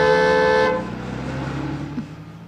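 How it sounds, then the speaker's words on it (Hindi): A loud, steady car horn blares for under a second, then cuts off, leaving low engine rumble and road noise. "सामने से कोई भी गाड़ी आए तो हॉर्न बजाना।"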